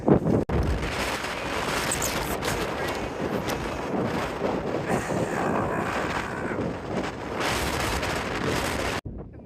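Strong wind buffets the microphone on Baldpate Mountain along the Appalachian Trail in cold, drizzly weather, a loud continuous roar with gusting surges and a few sharp thumps.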